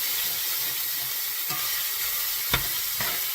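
Pork browning in a pan for chili verde sizzles with a steady, close frying hiss, broken by a few soft stirring knocks.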